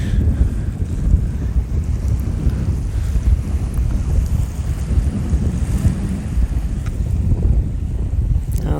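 Small, gentle waves lapping steadily at the water's edge, a soft continuous wash mixed with wind rumble on the microphone, no voices.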